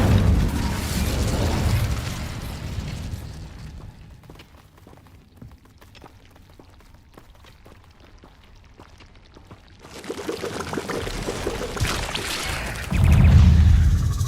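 Spell blasts from the Bombarda and Incendio spells in Hogwarts Legacy: loud booming bursts and fiery roaring at the start, a quieter stretch with scattered crackles, then another heavy explosive roar building near the end.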